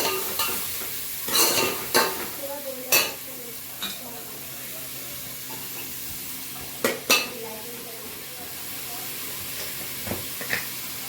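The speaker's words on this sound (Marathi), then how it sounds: "तेल टाकलं, त्यामध्ये टाकलं शिमला मिरची, कोबी आणि कांद्याची पात. चांगलं परतून घेणार आहे तेलावर." Capsicum, cabbage and spring onion are stir-fried in oil, with a faint, steady sizzle under repeated sharp clicks and scrapes of a spatula against the pan.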